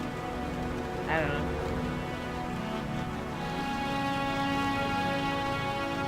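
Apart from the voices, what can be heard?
rain in the video game Blade Runner 1997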